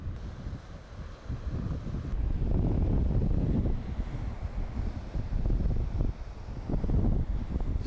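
Gusts of wind on the Isles of Scilly coast near Bryher batter the microphone in heavy, rumbling bursts that rise and fall across the whole stretch, with no voices.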